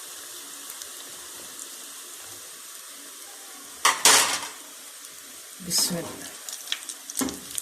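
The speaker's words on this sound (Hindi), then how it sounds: "ये देखिए ऑयल हमारा गर्म हो गया, मैं पोटैटो से बॉल डालने लगी हूँ।" Potato balls dropped into hot oil, with a steady sizzle broken by loud bursts of spitting and clatter as they go in, close by, with a short spoken word near the start.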